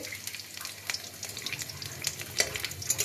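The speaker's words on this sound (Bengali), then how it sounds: "তেলটা গরম হয়ে গেছে। এবার এর মধ্যে একটু রসুন কুচি দিয়ে দিলাম" Chopped garlic sizzling in hot oil, a bright crackling fry with a few scraping stirs of a spoon in the pan, close and fairly quiet with no voices.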